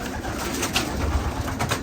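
Low, soft pigeon coos murmur steadily from a rooftop loft against a constant hiss of outdoor noise, with no talking.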